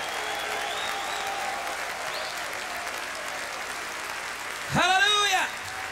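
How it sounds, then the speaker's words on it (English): Audience at a men's church conference clapping in a steady, even wash of applause that runs throughout, with a brief louder vocal cry or whoop rising near the end. "Somebody clap your hands for Jesus."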